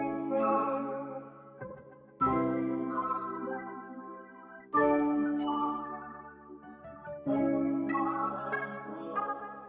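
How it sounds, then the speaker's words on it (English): A soul-style sample plays layered chords together with melodic textures, a warm, sustained musical passage that swells in three or four phrases with no one talking. "the chords and the melodic textures together sound like this."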